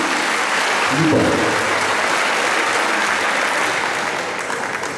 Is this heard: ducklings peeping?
no